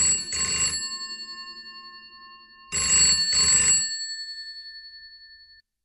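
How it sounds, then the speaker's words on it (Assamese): A telephone rings in two double bursts separated by a pause, loud and close with a bright electronic tone, and no voices over it. "এনেতে ফোনটো বাজি উঠিল।"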